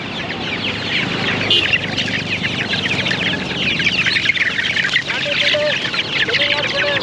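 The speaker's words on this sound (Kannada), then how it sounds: "ಮಾಗಡಿ ಸಂತೆಯಲ್ಲಿ ಕೋಳಿ ಸಂತೆ ಇದು" Many country chickens cluck and squawk together in a dense, noisy chorus at a poultry market in Magadi near Bangalore, with a busy crowd murmuring beneath them.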